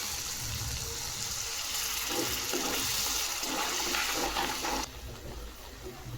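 Water gushes and splashes into a pan of coarsely ground paste being sautéed for a green pigeon pea amti. The pour runs steadily for several seconds, then cuts off, leaving a quieter background.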